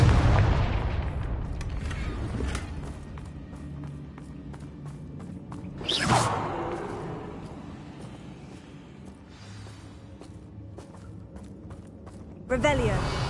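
A Confringo blasting spell goes off in the Hogwarts video game, a sharp burst around the middle followed by a fading rumble, set against busy game ambience and footsteps, with another loud hit near the end.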